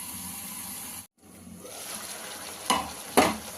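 Gongura chicken curry cooks on a stove over medium heat while its water boils off, giving a steady soft bubbling sizzle with a brief cutoff and two louder stirring scrapes near the end.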